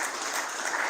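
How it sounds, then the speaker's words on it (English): A conference audience at a builders' gathering applauds in a dense, steady wash of clapping that fills the short moment, moderately loud and without speech. "A round of applause, distinguished ladies and gentlemen."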